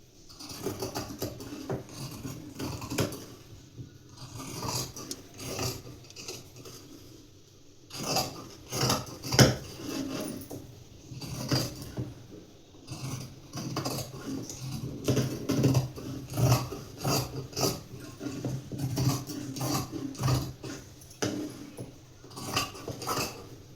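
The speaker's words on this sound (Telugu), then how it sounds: "ఇప్పుడైతే మార్క్ చేసిన విధంగా కట్ చేస్తున్నాను" Fabric for the front part of a garment being cut along marked lines, with repeated crisp scissor snips and rustling cloth close up in a quiet room, no talk.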